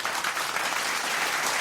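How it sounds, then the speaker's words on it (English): A studio audience claps for special guest Craig Benzine, loud sustained applause from many hands filling the space without a break. "That's enough clapping."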